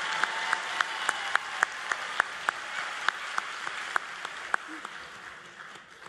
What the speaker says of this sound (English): Can you give a round of applause for my mom, please?